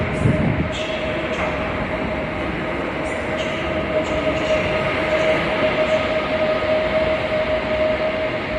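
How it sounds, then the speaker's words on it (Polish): A Pendolino train rumbles steadily through Wrocław Główny station with a constant mechanical drone and a thin whine, a few faint clicks above the noise. "Fajna Dart, polski Pendolino."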